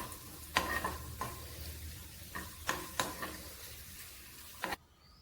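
Chopped cashews and raisins roasting in a pan for pumpkin payasam, a quiet sizzle broken by several sharp spoon scrapes and clacks against the pan before it cuts to near silence.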